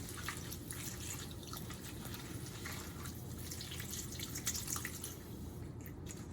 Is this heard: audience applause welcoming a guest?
no